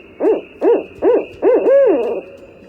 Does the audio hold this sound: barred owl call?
yes